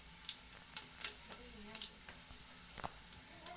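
Whole spices (bay leaf, cinnamon, cloves, cardamom, cumin and peppercorns) fry quietly in a pan, giving a faint steady sizzle dotted with scattered small pops and crackles.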